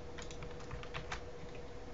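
A computer keyboard clicks under steady typing, with a quick scatter of close, light keystrokes in uneven bursts over a faint background hum and no talking.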